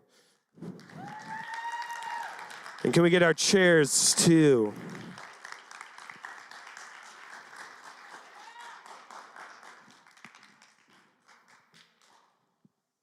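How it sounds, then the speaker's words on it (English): A church congregation gives a warm round of applause, scattered claps continuing under a voice and a few loud vocal bursts, then fading out. "give a big, warm round of applause for the amazing Lauren"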